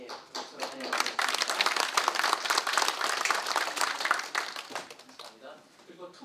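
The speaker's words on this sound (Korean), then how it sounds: "예, 박수로 환영하겠습니다." A seminar audience claps to welcome an arriving guest, dense and fairly loud applause that swells, holds, then tapers off near the end, with a voice briefly present.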